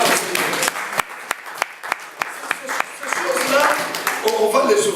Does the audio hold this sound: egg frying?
no